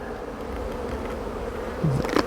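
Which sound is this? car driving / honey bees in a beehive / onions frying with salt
honey bees in a beehive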